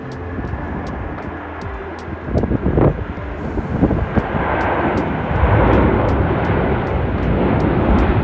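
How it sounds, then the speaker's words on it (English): A Boeing 737 MAX airliner arriving from Keflavik lands at Munich Airport, its engine roar swelling from a distant rumble into a loud, broad wash mixed with wind noise. "here we have the last shot of the Air Boeing 737 MAX coming in from Keflavik"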